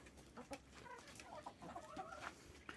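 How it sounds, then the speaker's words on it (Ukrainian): Soft, close clucking from several chickens eating scattered feed, short murmuring calls over a quiet background. "Дертю посипала і кури їдять."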